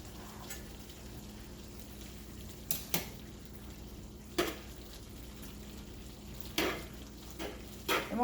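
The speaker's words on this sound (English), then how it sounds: "Let me stir my meat really quick." Hamburger meat stirred in a hot pan on a burner, with steady sizzling frying throughout and a few sharp scraping stirs of the utensil at intervals.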